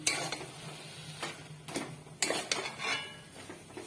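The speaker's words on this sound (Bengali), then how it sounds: "আমি নাড়ছি।" A spoon stirs amla with jaggery and sugar in a metal pot, giving irregular scraping clatters and sharp knocks against the pot, close and fairly loud, with no talking.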